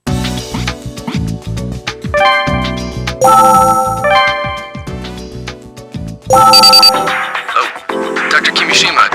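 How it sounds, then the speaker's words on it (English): An intercom call rings in the Trauma Team video game, a loud repeating electronic ringtone of bright chiming tones in short rising phrases over a steady synthetic backing. "Why are you calling for me on the intercom?"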